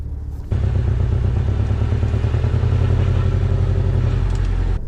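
A Porsche 718 Boxster S engine starts abruptly and settles into a loud, rumbling, throbbing idle, close and steady.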